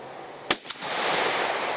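A rifle shot during a bison hunt in Springfield, Oregon cracks once, sharp and loud, followed by a second fainter report and a lingering outdoor rumble.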